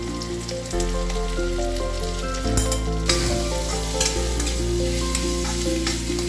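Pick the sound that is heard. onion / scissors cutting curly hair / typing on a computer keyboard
onion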